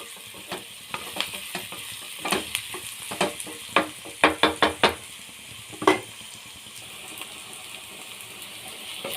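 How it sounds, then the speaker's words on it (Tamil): Capsicum sizzles in hot oil in a pan while a utensil stirs it. Soft continuous frying runs throughout, broken by a series of sharp scraping clatters as the pieces are tossed and turned. "கேப்சிகம் நல்லா வேகட்டும்."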